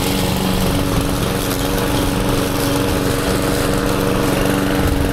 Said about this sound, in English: I think we're mowing them down pretty well now.